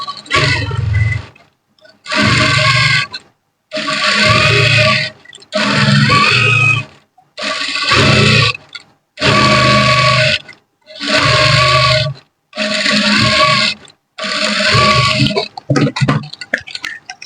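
A sewing machine stitches the lining fabric of a Yoruba fila cap, running in nine loud, close bursts of about a second each, separated by short silent pauses, with scattered handling noise afterward.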